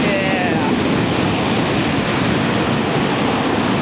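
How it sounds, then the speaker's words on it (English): Ocean waves break and roar continuously on Centerville Beach, a loud, steady wash of surf filling the whole stretch with wind buffeting the microphone. "Now I turn the camera on, we're not getting as good of waves."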